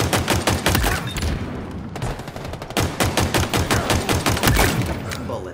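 Rapid automatic gunfire in a Halo Infinite capture-the-flag match, loud dense bursts of shots firing nearly continuously with only a brief pause, close and punchy with no talk.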